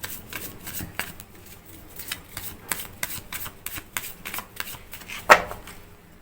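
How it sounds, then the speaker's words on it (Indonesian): Tarot cards being shuffled by hand, a quick run of crisp, papery riffles and taps that patter unevenly with one sharper snap near the end, heard close up with no talking. "mari kita shuffle kartunya ya"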